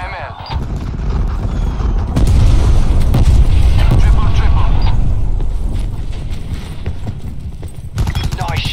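Hellstorm missile strikes in Call of Duty gameplay land as a sustained barrage of heavy booms and blasts, loud and dense for several seconds, with radio-style game voices calling out over the explosions.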